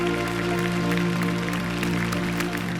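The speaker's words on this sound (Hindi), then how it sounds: "इनके लिए जोरदार तालियां।" Audience applause in a television studio during a contest show, a steady wash of clapping that holds for the whole stretch, mixed with sustained tonal music underneath.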